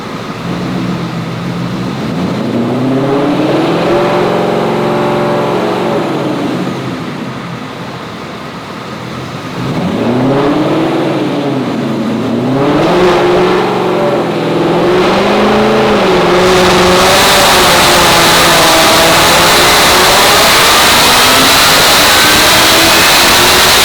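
A Roush Mustang engine on a dyno revs hard toward 8,300 RPM, loud rising and falling harmonic sweeps climbing repeatedly, then settling into a sustained high-pitched scream near the end.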